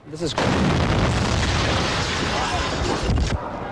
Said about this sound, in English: a powerful explosion from a roadside bomb planted in front of the school